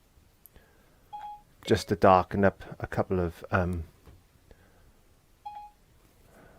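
A phone sounds two short bursts of dialing-tone beeps, one before and one after a stretch of someone talking, in a quiet room during an acrylic seascape painting lesson.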